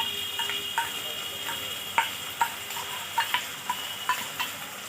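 A spatula stirs ginger garlic paste into tomatoes frying in a pan for matar paneer, with a steady sizzle broken by a string of sharp scraping clicks against the pan.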